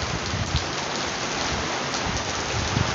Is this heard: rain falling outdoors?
yes